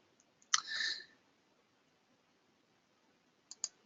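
A mouse click on an update button on a job-search website: one sharp click with a short burst right after, then two quick soft clicks near the end, close and quiet with no talking.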